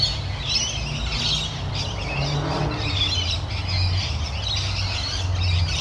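A dense chorus of hundreds of lorikeets squawking and chattering continuously, many birds at once, loud and shrill with no talking.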